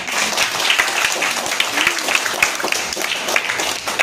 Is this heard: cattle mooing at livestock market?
no